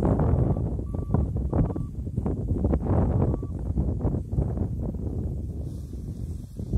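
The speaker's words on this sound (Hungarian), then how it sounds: "Jön a szél." Wind blows steadily outdoors at the start of a sailing race, a continuous broadband rush with gusty fluctuations and no talk.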